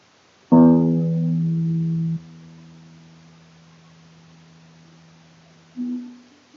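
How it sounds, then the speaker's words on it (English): One low guitar string is plucked and rings out, sustaining and slowly fading, followed by a brief second pluck near the end. "So this is the sound of the thick string."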